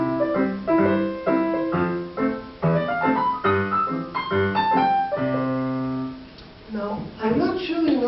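A bebop-style piano improvisation runs through quick, clear melodic phrases over chords, then eases into a longer held chord and a few closing notes.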